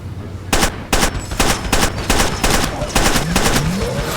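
Rapid bursts of automatic gunfire in the Far Cry 2 video game, about eight sharp, loud shots in an even rhythm, close by with faint background tones and no speech.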